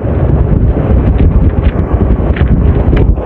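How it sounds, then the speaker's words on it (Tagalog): Strong wind roars steadily and loudly across the microphone at an outdoor sprint race, a constant buffeting rush with no pauses and no voices. "Napakalakas pa ng hangin"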